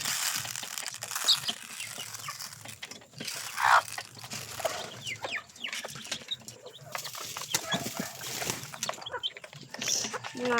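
Pigeons feeding outdoors: a busy, rustling jumble of pecking, wing flaps and shuffling grain, with clattering mechanical creaks and a person speaking intermittently over the scene.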